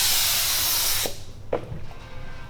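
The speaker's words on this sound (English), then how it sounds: "we'll spray our activator." A continuous close spray of hydrographics activator hisses for about a second, then stops, followed by a couple of light clicks and faint background hum.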